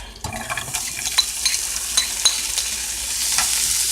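Vegetables hit a pan of melted butter and cooking garlic and fry with a loud, close sizzle. Stirring clicks and scrapes are scattered over it, and the hiss swells toward the end.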